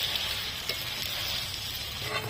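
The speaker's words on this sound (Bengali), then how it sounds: "এবার এর মধ্যে আলুগুলো দিয়ে দেবে আর মেথি শাকগুলো দিয়ে মাংসটাকে খানিকক্ষণের জন্য ঢেকে রাখবো" Chicken with potatoes and fenugreek leaves sizzling steadily in a covered pan, a continuous soft frying hiss with a faint clink near the start.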